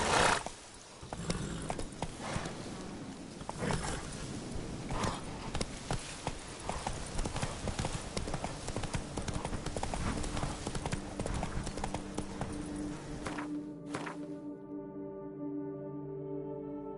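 Horse hooves clip-clopping at a steady trot in The Witcher 3: Blood and Wine, continuous rhythmic hoofbeats under game ambience, ending with a brief neigh followed by sustained music tones.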